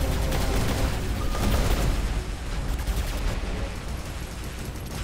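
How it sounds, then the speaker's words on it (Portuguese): Dense, rapid gunfire from the War Robots video game fills the clip with steady bursts and booming weapon blasts, loud and continuous throughout. "Vai tomar um tiro espacial"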